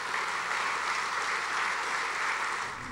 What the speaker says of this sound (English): I hope you all will join me in giving him a round of applause